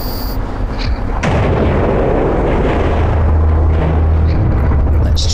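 Ship weapons in EVE Online open fire on a target: a sharp blast hits after a quiet start, then a heavy, continuous rumbling barrage of booms holds loud and close, with a voice talking over it.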